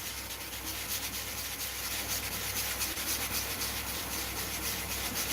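A model being sanded by hand with coarse-to-fine sandpaper, P80 to P800 grit, a continuous close rasping rub in quick rhythmic back-and-forth strokes, with no voices.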